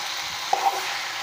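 Vegetables frying in a hotel-style pan are stirred, with a steady close sizzle and a brief scrape of the spoon against the pan.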